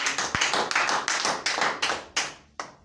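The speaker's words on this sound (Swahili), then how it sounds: "Tupigie Mwenyezi Mungu makofi." A church congregation breaks into rhythmic clapping in praise of God, with a run of loud, crisp claps that thin and slow toward the end, and no talking over them.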